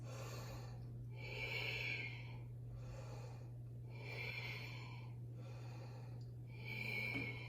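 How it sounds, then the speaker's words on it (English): Strong, forceful exhales during a breathing exercise, three long noisy breaths pushed out through the nose or mouth at a steady rhythm, close and clear over a constant low hum. "Really strong exhale, long as possible."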